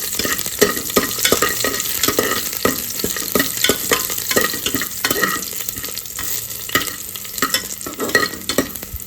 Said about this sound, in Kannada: ಸೊ ಆ ಬೆಳ್ಳುಳ್ಳಿ ಸ್ವಲ್ಪ ಡಾರ್ಕ್ ಕಲರ್ ಬರೋ ತನಕ ಫ್ರೈ ಮಾಡಿ